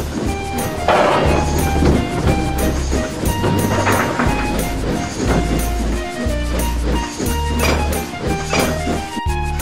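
Video game train wheels roll with a steady, loud rumble and rhythmic clickety-clack, layered with a continuous musical hum.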